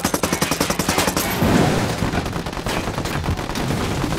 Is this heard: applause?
no